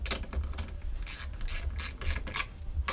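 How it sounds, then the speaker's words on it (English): A Hermle 341 020 clock mainspring barrel is clamped down in a homemade holding tool, giving a close, continuous metallic grinding rasp with repeated ratchet-like clicks over about three seconds. "Get your barrel in there, clamp it down to hold it."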